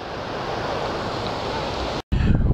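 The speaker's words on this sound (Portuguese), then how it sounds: "Ai, que ventania." Strong wind buffets the microphone on the beach at Praia do Magoito on the Sintra coast of Portugal, a loud, steady roar mixed with surf that cuts out briefly near the end before returning.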